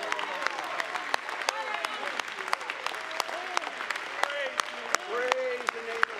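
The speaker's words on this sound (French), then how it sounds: "Donnons-lui simplement une bonne main d'applaudissement ce soir" Applause fills an evening church service hall, steady scattered clapping with sharp individual claps popping out, while a voice speaks over it.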